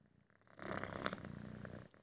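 A cat purrs softly at close range beside someone lying on pillows at home, a low rumbling drone that swells in after a quiet start and holds steady before easing off.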